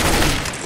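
Loud, dense burst of video game gunfire, a continuous close fusillade of overlapping shots filling the short moment.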